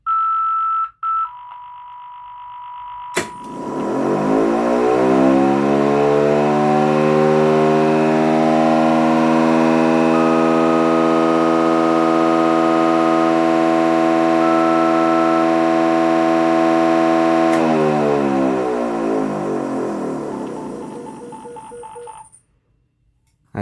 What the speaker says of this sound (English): the two other demo tones, and then we'll send the cancel, and as well we'll do the alert tone